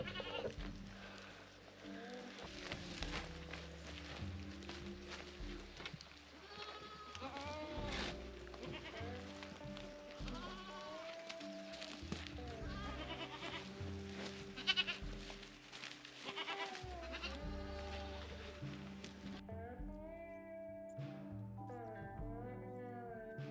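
Goats bleat repeatedly on a farm homestead, their wavering calls overlapping at moderate distance in a steady chorus that runs throughout, with short gaps between cries.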